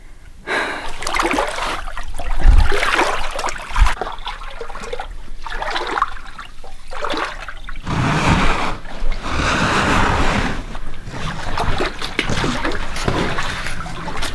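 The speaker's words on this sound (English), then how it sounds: "Got a little bit of water here." Wading through shallow water in a narrow Utah slot canyon, with close splashing and sloshing steps and heavy breathing, continuous over about fourteen seconds.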